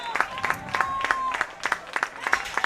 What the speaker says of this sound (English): Buzz from the crowd as Collins ices this one over